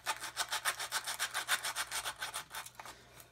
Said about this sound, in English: I'm just going to have to sand it down.